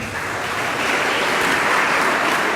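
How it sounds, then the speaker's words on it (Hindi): Loud, steady applause from an audience at a Hindi poetry recital honouring a young poet, with dense clapping that fills the whole stretch without a break and no voices heard above it. "श्रेया पंडित के लिए एक बार जोरदार तालियां"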